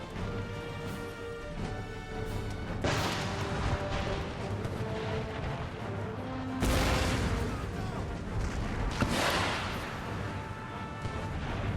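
Cannon artillery fire in the strategy game Empire: Total War, rolling booms and crashes in the midst of a battle, with two prominent heavy blasts rising out of continuous distant combat noise.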